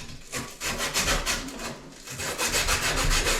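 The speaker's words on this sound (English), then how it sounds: "Sand it off really nice and good." Sandpaper wrapped around an exposed pipe for an angle stop change, rubbed back and forth in quick repeated scraping strokes, close and fairly soft.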